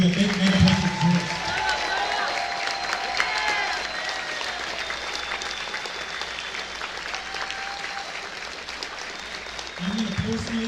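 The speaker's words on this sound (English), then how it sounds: "Big round of applause for all the people that make Megaplex exist." A large audience at the Megaplex closing ceremonies applauds the staff with a long, even roar of clapping that runs throughout, with brief voices and cheers rising near the start and end.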